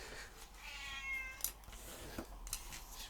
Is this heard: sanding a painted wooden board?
no